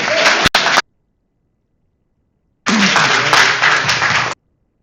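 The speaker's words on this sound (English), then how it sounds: "Applause." Audience applause following a startup pitch presentation for Tredder, two loud, dense bursts of clapping separated by a silent gap of nearly two seconds.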